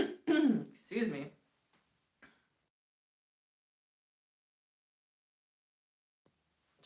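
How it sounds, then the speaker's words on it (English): A person with a cold gives a couple of loud, close coughs and throat clears in quick succession, followed by a few faint small sounds and then near silence. "Just had to cough because that's just gross."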